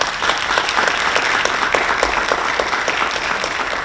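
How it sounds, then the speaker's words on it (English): Audience at a city election forum applauding the candidates, a dense, even round of clapping from a roomful of people, held at steady loudness throughout. "If y'all please join me in a round of applause for our candidates"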